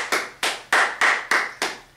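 Clapping at a debate show greets the host in six crisp, evenly spaced beats, each loud and sharp with a quick decay, in a steady unison rhythm.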